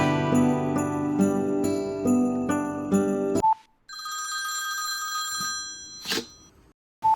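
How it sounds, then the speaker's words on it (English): A telephone bell rings loudly in repeated bursts for an incoming call at a busy makerspace, then a brief electronic tone follows with a quieter ringing pattern afterward. "All of a sudden, I get a phone call."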